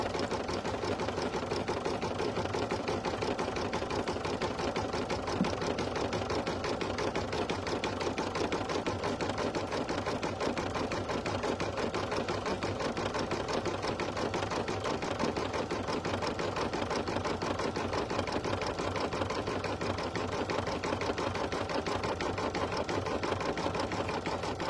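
An embroidery machine runs a satin stitch for an appliqué and shaker design, a dense, steady rapid needle chatter that continues unbroken and evenly loud throughout.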